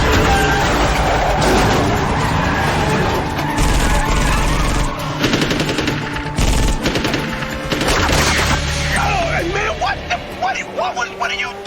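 Loud bursts of gunfire ring out during a movie car chase, layered over roaring engines, crashes and a rumbling, busy action mix, with urgent shouted voices cutting in throughout.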